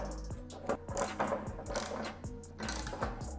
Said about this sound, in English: You can easily bolt up your wheel.